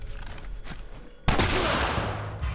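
Gunfire in The Last of Us video game: after a quieter stretch, a sudden loud broadband burst erupts and keeps roaring densely to the end, like close, sustained shooting.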